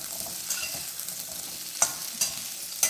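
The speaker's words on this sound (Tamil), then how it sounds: "நல்லா எண்ணெயில் வதக்கிடணும்" Onions sautéing in oil for a mutton and drumstick kuzhambu, a steady close sizzle broken by a few sharp scrapes of the stirring spoon against the pan, with no talking.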